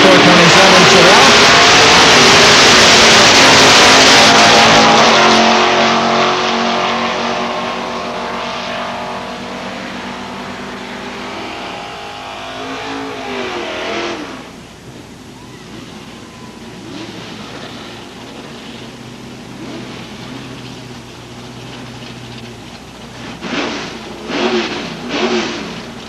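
Super Pro drag racing cars, a Chevrolet Vega wagon and a 427 Chevelle, roar loudly at launch, then fade into the distance as engine noise drops and quieter crowd ambience with brief bursts remains.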